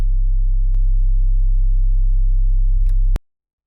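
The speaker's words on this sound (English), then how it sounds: "If you pay attention to that third harmonic, you hear it humming a little bit louder." A Serum 2 sub bass sine wave with a boosted third harmonic hums loud and steady for about three seconds, then cuts off abruptly into silence.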